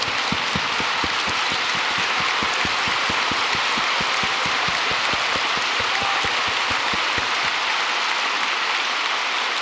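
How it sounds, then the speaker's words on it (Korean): A church congregation at a New Year prayer rally stands and applauds, a broad, steady wash of many hands clapping loudly without any talk. "우리 크게 일어나셔서 우리 크게 박수로 환영해 드리겠습니다"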